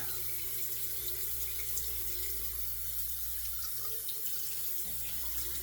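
Water runs steadily from a bathroom tap into a sink as a shaving razor head is rinsed under it, a continuous close hiss with no talking.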